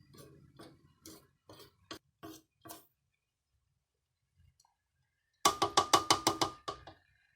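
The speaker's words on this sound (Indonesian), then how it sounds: "Kita aduk-aduk ya Bunda, supaya menyatu, berasnya menyatu dengan bumbu bawang" A spoon scrapes and knocks against a cooking pot while rice is stirred with an onion spice paste for nasi mandhi, making a series of rhythmic clinks, then a pause, then a brisker, louder run of taps close up.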